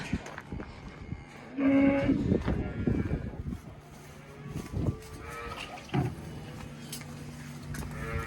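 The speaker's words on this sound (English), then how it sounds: "So now we're going to go over to see the next group, youngest heifer calves." Young heifer calves in a calf barn, with several moos and bleats near and far over steady barn background and occasional faint voices.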